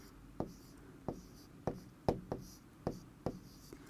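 A pen writes on paper in a series of quiet, scratchy strokes and taps spaced at a fairly even rhythm, close up, with no talking.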